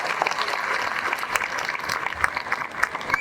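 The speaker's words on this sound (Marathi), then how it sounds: "त्यांचा जोरदार टाळ्या वाजून आपण स्वागत केलं पाहिजे." Crowd applause welcoming Chief Minister Eknath Shinde at a public event, sustained clapping from many hands at steady loudness with scattered louder claps and no talk.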